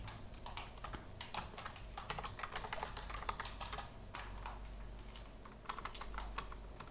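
Rapid typing on a computer keyboard while writing Android app layout code, with steady overlapping key clicks running continuously and close up, no talking.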